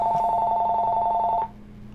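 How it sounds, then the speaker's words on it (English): A telephone rings in steady, rapid electronic trills for about a second and a half, then stops, leaving a quiet room hum. "Just ignore that phone, by the way."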